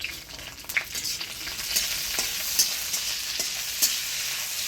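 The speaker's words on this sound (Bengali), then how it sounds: "দিয়ে দিচ্ছি তেজপাতা, কাঁচা লঙ্কা, দিয়ে দিচ্ছি গোটা জিরা" Bay leaves, green chillies and whole cumin seeds sizzle in hot oil for jeera rice, a steady crackling hiss up close with scattered sharp pops and faint stirring scrapes throughout.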